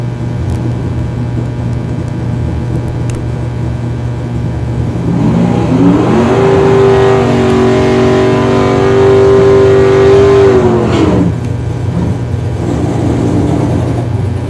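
A drag racing car at a small-town dragway in Union, South Carolina, swelling into a steady high revving whine that holds for several seconds before fading, heard over a constant low hum.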